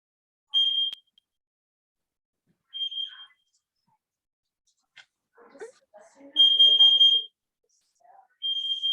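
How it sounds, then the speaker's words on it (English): Fire alarm chirping with loud, high electronic beeps in irregular bursts while its batteries are being replaced, with faint clattering from the work between beeps. "The batteries were getting replaced for the fire alarm and it was making all this noise"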